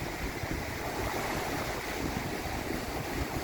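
Sea waves breaking on a beach at Atwick near Hornsea, heard as a continuous broad roar of surf mixed with wind, steady and fairly loud throughout.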